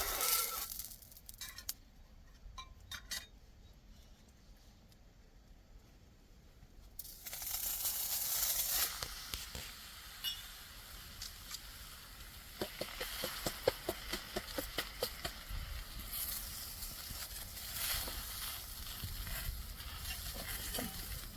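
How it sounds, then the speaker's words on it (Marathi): Thalipeeth fries in a little oil on a griddle over a wood-fired clay stove in a farm field. A quiet start leads into a soft, steady sizzle with occasional crackles and light scraping taps. "चला आता मी तव्यामध्ये थोडंसं तेल सोडून थालीपीठ तव्यात टाक."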